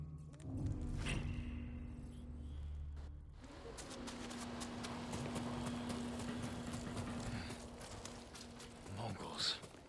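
Horse hooves clip-clop in the video game Ghost of Tsushima, a quick, regular run of hoofbeats that builds after a short pause, with voices and rustling movement around it.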